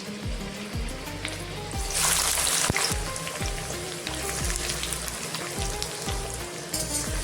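Onion and garlic fry in oil with a dense, loud sizzle that swells midway, broken by regular scraping stirs of a spoon in the pan.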